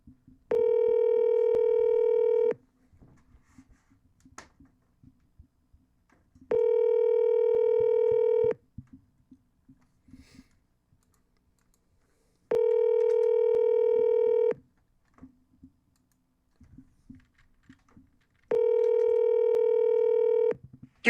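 A phone call rings out in a repeating tone on the line, with about two seconds of tone followed by about four seconds of silence, four times in a row, loud and clean.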